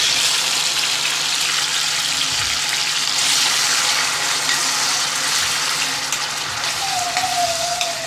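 Tomatoes go into a pan of sizzling fried garlic for Alexandrian-style fava beans, bringing a steady hiss and crackle of frying, fairly close and even throughout, with a faint tone rising near the end.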